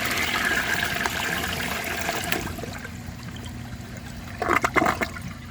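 A 1992 Peerless Hancock toilet with a very small trapway flushes a washcloth: a rushing swirl of water that fades into a low refill trickle, then brief gurgling splashes near the end.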